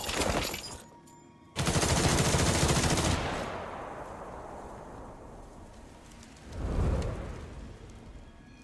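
Soldiers in the video game Duet Night Abyss open fire in a dense, loud burst of automatic gunfire that fades into a long decaying roar, with a second swell of noise later.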